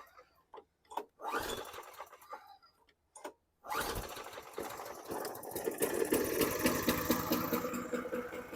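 1999 Toro lawn mower engine idling at low RPM, a rough sputtering putter that catches after a few short bursts and then settles into a steady close chugging rumble.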